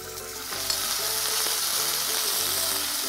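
Cumin seeds and curry leaves crackle and fry in hot oil for a tempering, a dense, steady sizzle close by with a few stirring sounds and no talk.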